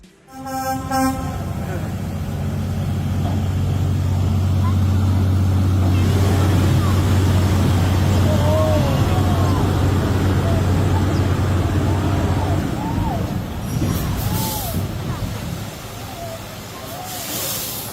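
A truck engine labours with an uneven, strained rev on one of the world's most dangerous roads: a loud, steady low drone that holds for most of the stretch before easing, with a brief louder swell near the end.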